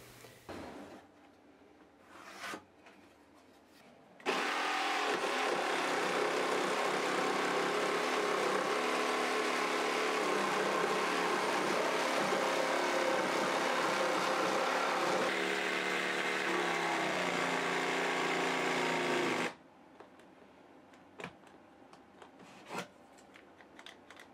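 A jigsaw cuts through 3/4 inch chipboard in one long steady rasping run of about fifteen seconds. It starts abruptly, stops abruptly, and is loud and close, with quiet handling noises before and after.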